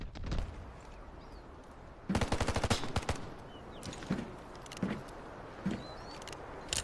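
Rapid machine-gun bursts ring out in the Delta Force video game, a dense rattling volley followed by scattered single shots and short bursts over a steady ambient background.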